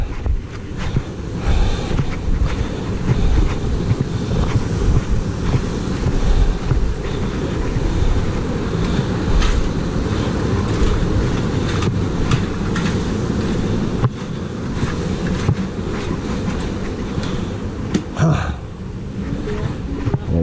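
A waterfall at the Crying Mountain rushes in a steady, loud, broadband roar with wind buffeting the microphone throughout.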